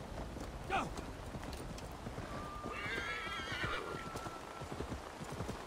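A horse in Assassin's Creed Valhalla gallops with steady, rapid hoofbeats throughout, and a clear whinny rises over them around the middle; the sound is fairly quiet overall.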